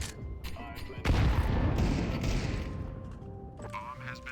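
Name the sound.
grenade explosion and gunfire in a video game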